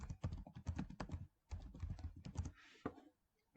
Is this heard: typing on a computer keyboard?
yes